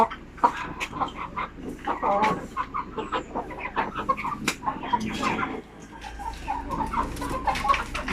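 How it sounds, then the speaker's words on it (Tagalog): Several purchased native roosters, RTL zampen type, cluck and squawk in a busy overlapping chorus close by, with scattered short calls throughout and steady farmyard noise underneath. "ito yung mga roster na binibili ko"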